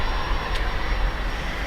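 American Airlines airliner lined up for departure to DFW at Dublin Airport, a steady low engine hum and rumble at a distance, even and unbroken for the short stretch, with no voices.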